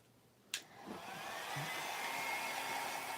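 A hair dryer drying paint clicks on with a sharp snap, then rises into a steady, close whirring blow that holds for several seconds, with no voices.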